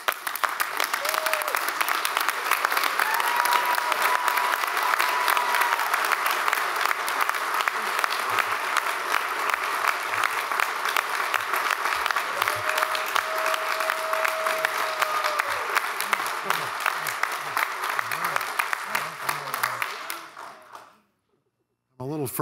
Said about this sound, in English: everybody please stand and give both of them a round of applause.